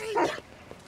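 A dog in the video game Detroit: Become Human gives a short bark or yip, close and fairly loud, followed by quiet background.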